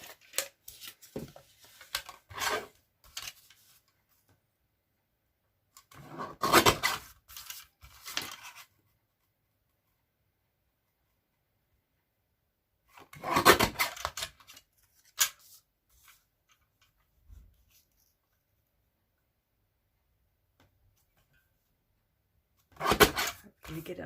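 Card paper for a Stampin' Up card being trimmed with a paper trimmer or scissors, in a few short bursts of cutting and sliding separated by quiet pauses, close and clear.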